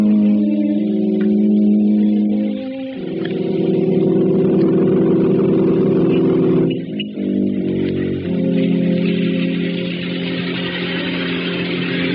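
A 1940s car engine in a radio drama cranks, catches and settles into a loud, steady running hum, with a brief break midway before the idle resumes.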